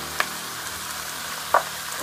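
Onions cooking in a pan for mushroom stroganoff, a steady soft sizzle with two brief sharper crackles, close and continuous.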